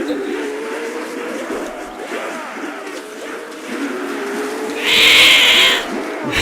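A cat meows in a drawn-out, mid-pitched call close by, followed by a brief hissy burst of noise.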